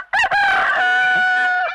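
A rooster raised by the neighbours downstairs crows once, close and loud, a single drawn-out cock-a-doodle-doo lasting under two seconds with no other sound around it.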